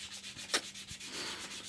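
Sanding on a handmade wooden mug: a steady, close abrasive rubbing that continues with rhythmic strokes, with one sharper scrape partway through and no voices.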